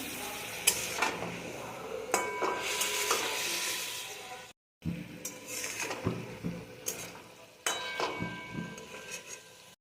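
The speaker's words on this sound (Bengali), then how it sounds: "দেখুন মশলাটা তো কষছে, এই সময় আমি মাছগুলো দিয়ে দেবো।" Fish pieces added to spice masala in a pan sizzle and fry steadily while a utensil stirs and scrapes with occasional metallic clinks; a short silent break falls midway.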